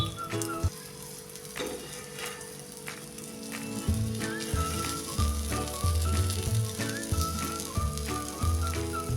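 Brinjal masala slices sizzle steadily in oil in a pan, a continuous loud frying hiss with occasional clinks and scrapes as pieces are flipped one by one; no talking.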